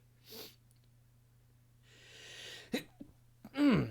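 A faint, stifled sneeze bursts out near the end after some quiet breathing and small snorts, all soft and close against a low hum.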